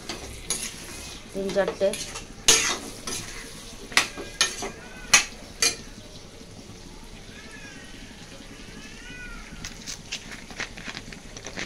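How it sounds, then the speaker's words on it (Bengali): A spice paste with green chilies sautéing in a pan at home, with stirring scrapes and clinks of a utensil against the pan over a low sizzle, and a brief voice at the start. "এটা এটাকে ভালো করে কষতে হবে, এটাকে যাতে মশলার গন্ধটা চলে যায়।"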